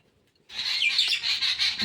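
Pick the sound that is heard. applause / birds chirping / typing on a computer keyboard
birds chirping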